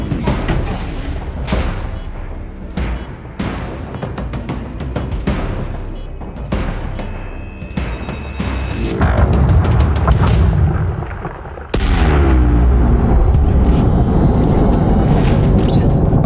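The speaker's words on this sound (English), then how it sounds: "Detonation in 10 seconds." A core detonation in the space game Elite Dangerous, with deep booming blasts and crashing rumbles building over several seconds into a sustained, loud roar at the end.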